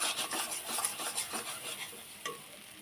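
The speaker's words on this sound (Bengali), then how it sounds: "আলুটা একটু ভালো করে ভেজে নিন ভালো করে শুকনোটা করে নিতে হবে" Potatoes frying in a pan while being stirred, with rhythmic scraping strokes of a utensil over a soft sizzle, close up, then a single clink near the end.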